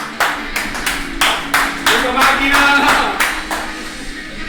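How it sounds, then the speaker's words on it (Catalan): Studio audience on a living-room sofa set clapping in short bursts to welcome a guest, with a voice calling out over the rhythmic claps. "Un aplaudiment."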